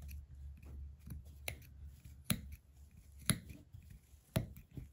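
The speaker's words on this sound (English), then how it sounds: "this is where those very sharp scissors are beneficial" Very sharp scissors trimming paper in a quiet room, with a few crisp separate snips standing out over faint handling noise and low rumble, no talking.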